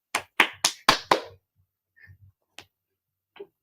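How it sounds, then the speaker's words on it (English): Applause for a guest in an online show comes as five sharp, close hand claps in quick succession, then a few faint scattered taps and quiet noises. "Let's give her a round of applause."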